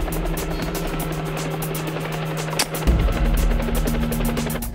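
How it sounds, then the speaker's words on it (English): A helicopter flies over the South African bush during a rhino darting operation, its rotor chopping in a rapid, even thud that stays loud and close throughout while the engine whine holds steady, with no talking. "The helicopter chases the mother away to a safe distance."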